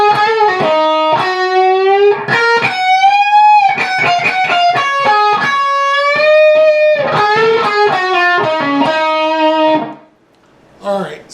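Overdriven electric guitar plays a song's solo, sustained bent notes and quick runs, loud and close, then it cuts off abruptly near the end.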